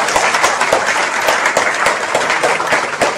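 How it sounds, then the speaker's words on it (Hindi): An audience in a training class breaks into loud, dense applause, many hands clapping steadily and close throughout with no pause. "क्या इनके लिए जोरदार ताली बजाइए।"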